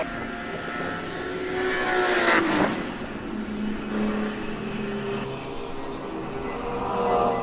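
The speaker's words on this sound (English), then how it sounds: "Just listen to those engines scream." Race car engines scream past at Watkins Glen during a ChampCar endurance race, a loud high-pitched whine swelling as a car nears and fades, then another engine rising in the distance.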